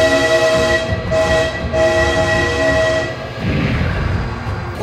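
A train rolls past in the driving game BeamNG.Drive, its horn sounding in long sustained blasts over a loud rumbling rail roar.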